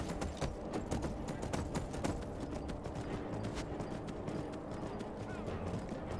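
Horse hooves clip-clopping in the video game Skyrim, a rapid, even run of sharp, close hoofbeats over a low rumble, with no voices.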